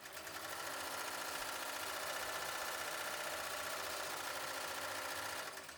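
An embroidery machine stitches a tack-down line for a fabric letter, a continuous fast mechanical whir with rapid needle chatter, steady and close, with no talk.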